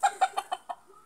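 A fighting rooster clucks five times in quick, evenly spaced bursts, close and fairly soft, then falls quiet.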